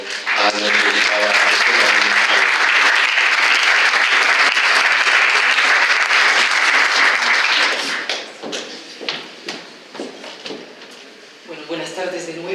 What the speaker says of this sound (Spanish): quisiera pedirles que me acompañen a recibir con un caluroso aplauso a nuestra invitada